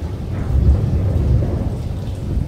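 Thunderstorm rumbling over open countryside along a lakeside cycle route, a steady low roll of thunder mixed with rain, fairly loud and continuous with no voices.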